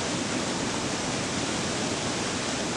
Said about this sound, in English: Now standing by the Gullfaks waterfall.